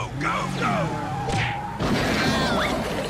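A cartoon character smashes through a cabinet set up as a blockade, a sharp crash landing partway through amid busy cartoon sound effects and vocal noises.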